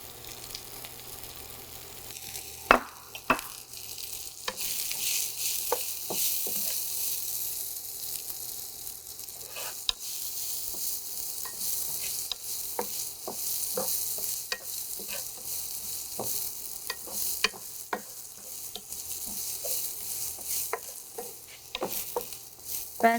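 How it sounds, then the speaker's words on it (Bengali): Chopped onion and garlic fry together in a pan, producing a bright, constant sizzle broken by frequent stirring scrapes and clicks. "পেঁয়াজটা একটু নরম হওয়া পর্যন্ত অপেক্ষা করতে হবে।"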